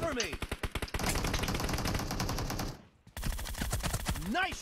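Rapid automatic gunfire bursts in the mobile battle-royale game PUBG Mobile, close and loud with a brief pause, with faint voice chat underneath.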